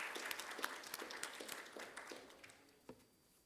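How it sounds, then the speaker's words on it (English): Audience applause at a business fest gathering in Sharjah, welcoming the industry guest of honour to the stage; scattered, fairly faint clapping with distinct individual claps that thins out toward the end. "A round of applause."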